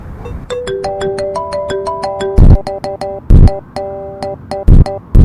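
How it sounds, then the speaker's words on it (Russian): Mobile phone ringtone from a forgotten GTA-clone video game: a loud, bright electronic melody of short beeping tones, followed by sharp repeated bursts of a brassier ring pattern, with no talking. "Больше всего мне понравился рингтон под номером 3."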